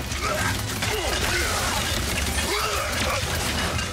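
A loud explosion in the video game Ratchet & Clank: Rift Apart: a dense, continuous roar of crashing and shattering debris that fills the whole stretch at steady volume.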